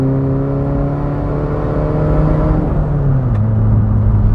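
A Mk1 Skoda Fabia vRS with its 1.9 TDI diesel drones steadily from the cabin, its engine note holding then dropping in pitch near the end as revs ease, over constant road noise.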